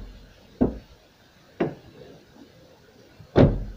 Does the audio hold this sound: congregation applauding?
no